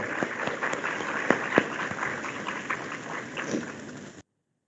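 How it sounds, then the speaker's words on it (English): An audience at an institute event claps for a few seconds, faint and somewhat distant, a soft patter with a few sharper claps that tapers off and cuts out. "I think this needs a big round of applause for it"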